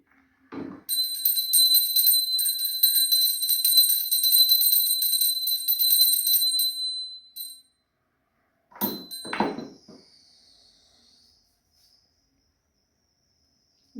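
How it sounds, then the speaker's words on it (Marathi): A small bell rings continuously for about six seconds during a puja, then stops; a few soft knocks and a brief clink follow in a quiet room. "घंटी वाजव"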